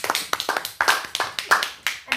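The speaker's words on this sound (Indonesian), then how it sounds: "bagus sekali tepuk tangan" A small group in a public speaking class clapping hands, sharp irregular claps close by, overlapping with a voice talking throughout.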